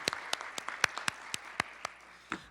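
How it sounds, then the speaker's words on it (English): Sparse applause for Congressman French Hill at the Fusion 2018 event: about a dozen distinct, separated claps ring out over a quiet room, fading quickly. "let's give him a round of applause"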